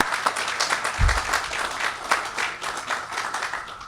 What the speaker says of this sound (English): let's get applause that